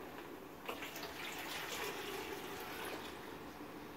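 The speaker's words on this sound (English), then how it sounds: "I'm going to take our water, we're going to dispose of it, we're putting it into the toilet or commode." Used wash water from catheter care poured into a toilet or commode, a quiet, continuous splashing stream heard close up with no talking.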